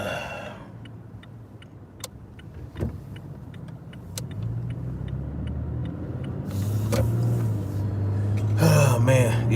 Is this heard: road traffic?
yes